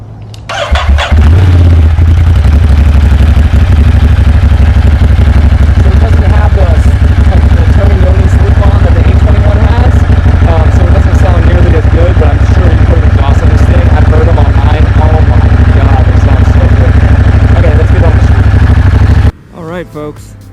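A 2020 Ducati Monster 1200 S motorcycle starts up and idles right next to the listener, a loud, steady, throbbing rumble for nearly twenty seconds before it abruptly cuts off.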